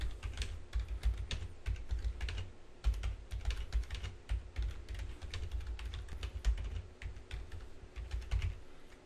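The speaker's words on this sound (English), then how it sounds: "You can type whatever you want." Typing on a computer keyboard, with a fast, irregular patter of close key clicks and thumps continuing steadily and alone, with no talking.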